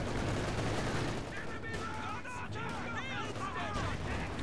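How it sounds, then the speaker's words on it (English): Bursts of MG34 machine gun fire in a WWII strategy game, rapid distant rattling volleys under a commentator talking steadily over the battle noise. "Especially now we've got the MG34 suppressing them"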